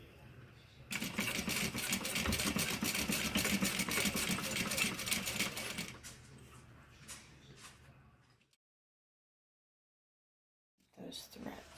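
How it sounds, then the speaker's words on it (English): A sewing machine runs steadily through fabric for about five seconds, backstitching a seam, then slows and stops. A brief silence follows before a voice returns at the end. "I'm going to go back a couple stitches and back stitch"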